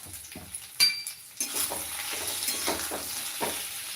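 Brinjal (eggplant) pieces frying in a generous amount of oil over a low gas flame, a steady close sizzle with occasional stirring scrapes and a brief utensil clink, no talking.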